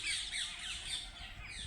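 Pigeons squawk and call close by in short, raspy bursts that run throughout the brief moment, fairly faint overall.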